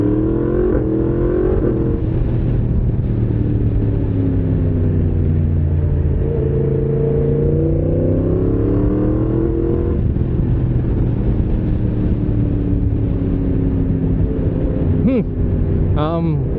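Yamaha MT-10SP motorcycle under hard acceleration, a loud engine note sweeping upward through the gears with rising and falling harmonics, heavy wind rumble over the top, and a brief clatter near the end.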